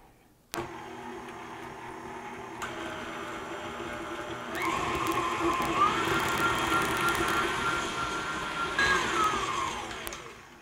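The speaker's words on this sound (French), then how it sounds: "on va mixer ça au malaxeur jusqu'à rendre ça crémeux et moelleux" An electric hand mixer creams Christmas cookie dough with an egg in a bowl, a steady close motor whine that starts abruptly, grows louder midway and holds without any speech over it.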